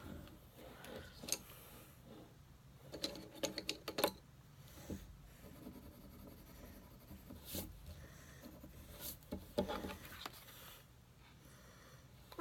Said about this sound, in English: Colored pencil.